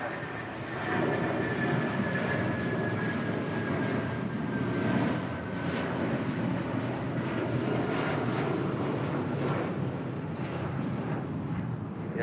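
A large heavy airliner takes off from runway 25 right at LAX, its jet engines giving a loud, steady roar with a faint whine that slowly falls in pitch.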